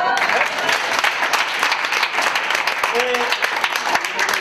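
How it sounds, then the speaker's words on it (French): An audience at an interactive theatre forum on Alzheimer's applauds Alessandra, with steady, dense clapping that fills the room for the whole stretch and voices mixed in underneath. "On peut applaudir Alessandra"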